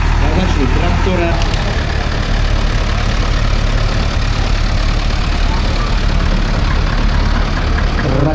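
A 1951 Gildner two-cylinder tractor engine runs steadily at a vintage machinery show, a loud continuous chugging drone under people talking nearby.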